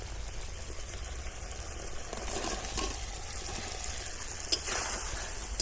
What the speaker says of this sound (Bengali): এবার ভেজে রাখা পেঁপেগুলো দিয়ে দেবো এর মধ্যে